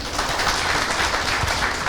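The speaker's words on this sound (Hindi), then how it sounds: "एक बार जोरदार तालियां प्लीज" A corporate training event audience applauds steadily, a dense even wash of clapping filling the room at moderate loudness with no voices over it.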